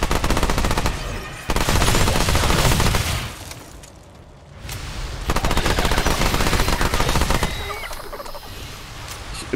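A Thompson submachine gun in the game Remnant 2 fires long automatic bursts, loud and close, with a short pause between volleys and a quieter tail at the end.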